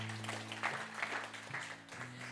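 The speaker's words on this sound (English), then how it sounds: "You can clap for that." A church congregation claps after a jazzy Rock of Ages during Sunday worship, scattered, fairly quiet clapping over a sustained low organ or keyboard tone.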